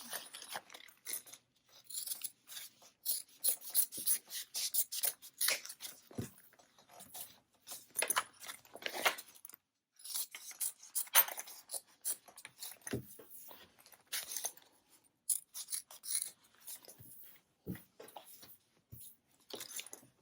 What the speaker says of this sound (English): I've got a little bit of excess lining fabric up at the top there, so I'm going to trim that